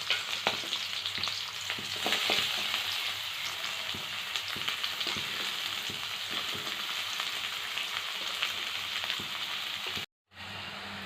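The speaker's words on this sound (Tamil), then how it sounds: "எண்ணெய் சூடேறிடுச்சு ஃப்ரெண்ட்ஸ். வெங்காயம் போட்டுக்கலாம்." Chopped onion fries in hot oil in a kadai for village-style sambar, a steady bright sizzle with occasional stirring clicks throughout, cutting out briefly near the end.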